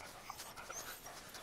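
A dog pants in quick, faint, rapid breaths, close by but quiet, over a short stretch with no voices.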